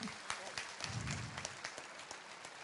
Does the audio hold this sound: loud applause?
yes